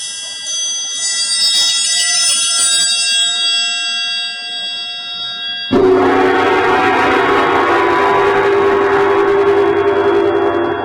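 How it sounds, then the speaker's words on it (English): A bent metal triangle is struck and rings with a bright, sustained shimmer of high overtones for several seconds, then gives way to a louder, denser and noisier wash of sound. "This is a triangle, piece of metal, and it's bent into this shape."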